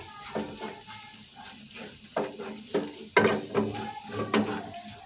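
Turmeric and crushed black pepper are roasted in a pan with onion for baingan bharta, giving a soft sizzle under repeated scraping and clinking strokes of a spatula against the metal.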